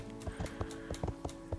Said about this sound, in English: This means we would say this horse is on a right lead canter.